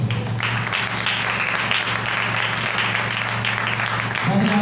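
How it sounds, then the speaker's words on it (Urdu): Loud applause from a church congregation, dense sustained clapping from a crowd nearby, lasting a few seconds. "یسوع کے لیے زوردار تالیاں"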